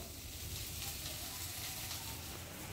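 A vegetable curry of soybean chunks, potato and pointed gourd sizzles in a pan, a soft, continuous frying hiss with low bubbling underneath, faint and steady.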